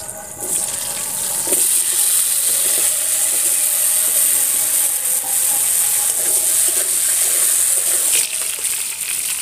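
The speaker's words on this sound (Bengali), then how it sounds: "বাকি এঁচোড়টাও এইভাবে ভেজে নেব।" Pieces of raw jackfruit deep frying in hot oil, a loud, continuous, dense hiss and bubbling that stays steady and close throughout with no talk.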